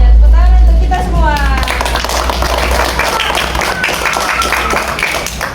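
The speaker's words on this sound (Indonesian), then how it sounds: "Tepuk tangan untuk kita semua." Schoolchildren in an elementary social studies classroom clap together, a scattered burst of hand claps following a voice at the start, with loud low background rumble underneath.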